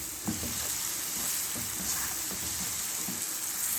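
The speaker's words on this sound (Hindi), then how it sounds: "अच्छे तरीके से 1-2 मिनट के लिए मैं इसकी भुनाई कर लेती हूँ ताकि जो अदरक लहसुन है वो अच्छी तरीके से कुक हो जाए।" A ginger, garlic, tomato and onion masala sautéing in a pan for potato curry, giving a soft, steady sizzle broken by light stirring scrapes and taps.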